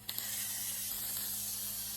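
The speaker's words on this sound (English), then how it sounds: "So I'm just going to add the shrimp to it." Raw shrimp sizzle as they hit a hot wok of stir-fry noodles with egg, giving a loud, steady broadband hiss that holds evenly from start to finish with no voices.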